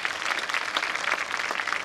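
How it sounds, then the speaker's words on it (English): Audience clapping at a high school homecoming pageant, a steady, fairly loud round of applause from a crowd, continuous throughout with no talking over it. "Another round of applause, please."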